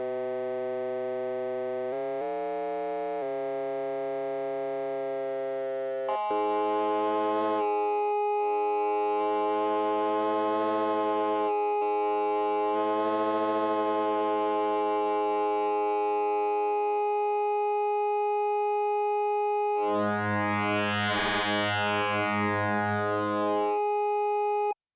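An Oberheim TEO 5 synthesizer holds a steady tone under through-zero cross modulation, shifting between plain sustained pitches and denser, shimmering modulated textures, ending in a bright, swirling burst, with no talking.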